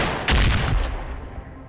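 A burst of gunfire from STALKER: Call of Pripyat, one loud broadband crack followed by a short rumbling tail that fades, close and alone with no talk.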